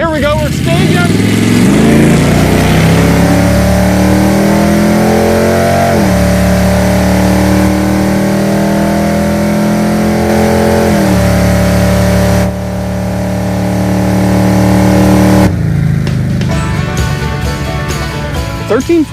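A nitrous-equipped crew cab Chevelle drag car roars and revs hard for a long stretch launching down the strip, its pitch climbing through gear changes, then drops off and rises again.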